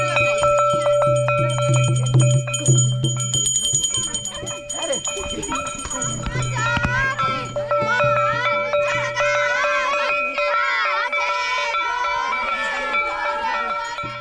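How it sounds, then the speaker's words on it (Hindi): Dholak drums and ringing bells lead a village school procession during the Phooldei festival, with steady jangling metallic tones over drumming throughout and talk mixed in. "इस समय आगे से बाजा वगैरह हम कह सकते हैं ढोलक आगे से जा रहा है घंटी वाले से जा रही है"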